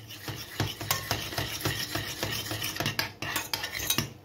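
A spoon stirs a sauce in a pan off the heat, producing a continuous run of close scraping and rubbing strokes in an uneven rhythm, with no speech over it.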